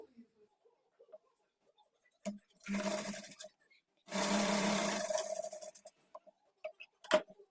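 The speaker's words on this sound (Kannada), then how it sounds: "ಇನ್ನೊಂದು ಸ್ಲೀವ್ಸ್ ತಗೊಂಡು ಇದನ್ನು ಸಹ ಸೇಮ್ ಇದೇ ತರ ಡಬಲ್ ಫೋಲ್ಡ್ ಮಾಡಿಕೊಂಡು ಸ್ಟಿಚ್ ಮಾಡ್ಕೊಳ್ಬೇಕು" A sewing machine stitches a folded kurti sleeve in two short, steady whirring runs, the second longer, with soft ticks and handling clicks in the quiet gaps between.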